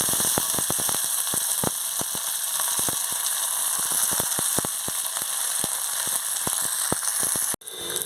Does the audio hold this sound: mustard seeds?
yes